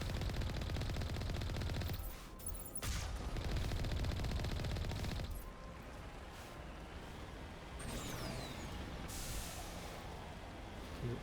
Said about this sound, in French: il me tire déjà dessus